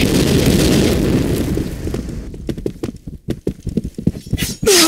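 Grenade explosion in the Point Blank shooter game, a loud booming blast that rumbles and decays over about two seconds, followed by scattered debris clatter and pops.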